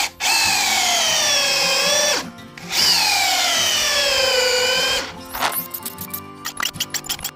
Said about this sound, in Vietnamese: Mình sẽ bắn vô miếng gỗ này rồi coi nó có bắn nổi không nha